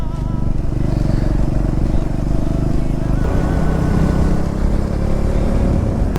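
Triumph Scrambler 400 motorcycle being ridden on a rural road toward Attapadi, its engine a loud, close, continuous rumble with heavy wind buffeting and a slight change in tone partway through.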